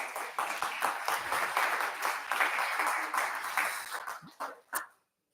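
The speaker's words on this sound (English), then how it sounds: "For the record, they're applauding for you guys" An audience applauds at a South Gate city council meeting, a fairly dense round of clapping that thins out and stops, with a few last scattered claps near the end.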